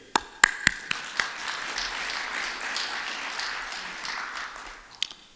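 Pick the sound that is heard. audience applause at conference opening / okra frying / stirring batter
audience applause at conference opening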